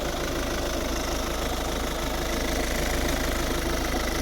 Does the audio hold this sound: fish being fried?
no